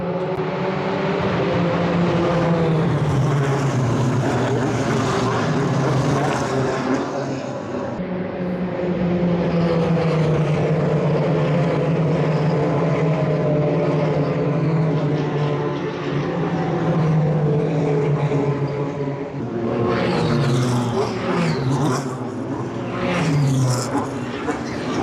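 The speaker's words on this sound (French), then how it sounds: "on va essayer de profiter du premier freinage ou du moins de la pleine charge de tout le peloton au moment du départ de la" Ligier prototype race cars roar past at the race start of a 2025 European Le Mans Series round at the Paul Ricard circuit. The engines are loud and sustained, with rising and falling pitch as the pack passes, under crowd noise and a voice.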